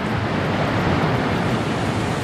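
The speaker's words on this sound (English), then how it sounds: "Right in front of us is this beautiful river." A river flows right in front of a historic mountain lodge beside Bear Creek Falls Trail in North Carolina, a loud, steady broadband rush of water with some wind buffeting, no voices.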